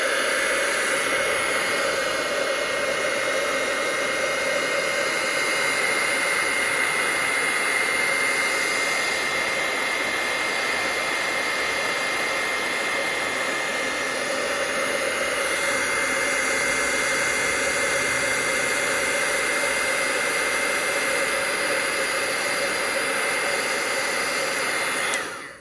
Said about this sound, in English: So then we're going to heat it with the heat tool.